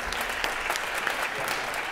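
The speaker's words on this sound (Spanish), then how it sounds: "Un aplauso." Audience applause at the iRedes 2011 conference on Ibero-American social networks, following a speaker's introduction; a steady, dense wash of many hands clapping fills the short stretch, close and even throughout.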